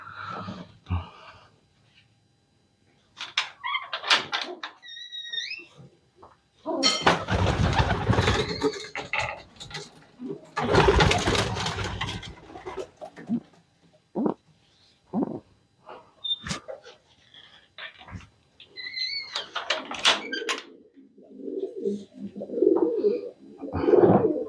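Soft pigeon coos recur between bursts of rustling and flapping as a female pigeon is held in hand during mating, with short calls scattered throughout at close range.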